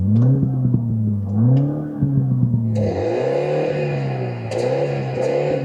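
MINI John Cooper Works engine heard from inside the cabin under acceleration, a loud droning tone rising and dipping in pitch as it revs, with a brighter synthetic-sounding layer joining partway through; no talk.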